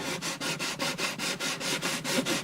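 Sandpaper worked back and forth over the bridge of an Alvarez Artist AD65 acoustic guitar, making steady rhythmic rasping strokes, about four per second, close and alone.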